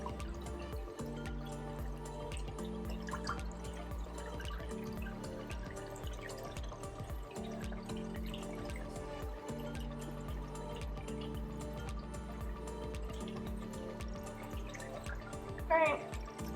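Murky reactor water from a reef aquarium's GFO and carbon reactor tipped into a bucket, a steady continuous pour and splash running throughout beneath a low humming pump drone, close and moderately loud.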